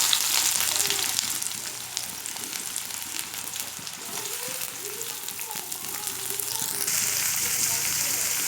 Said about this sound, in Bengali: দিয়ে দিচ্ছি পেঁয়াজ কুচি